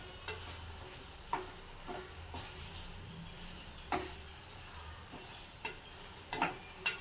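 Capsicum curry being stirred in a pan with turmeric and salt, giving soft scraping strokes at an irregular pace over a faint, steady sizzle, with no voices.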